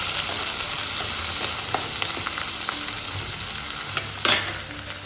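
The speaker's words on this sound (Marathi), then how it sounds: "कांदा छान असा फ्राय करून घेतात." Onion frying in a pan for a potato chutney sizzles continuously, with scraping stirs and occasional clinks and a brief louder rattle near the end.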